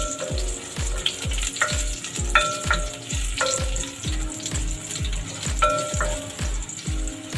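Sliced garlic sizzles in hot oil in a pan for a chicken dish, a steady crackling fry broken by regular clinks and scrapes of stirring.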